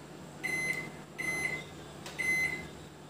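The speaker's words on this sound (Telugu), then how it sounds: "ఓవెన్ ఆన్ చేసుకున్నామండి" A microwave oven with a grill mode gives three short electronic beeps as its buttons are pressed, each one clear and close, with faint clicks and quiet gaps between them.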